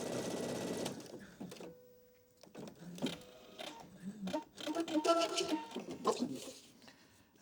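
A sewing machine stitches a 3-step zigzag seam on fabric beside a tear, its motor whirring in bursts of rapid mechanical clatter with brief pauses between runs, close and fairly loud.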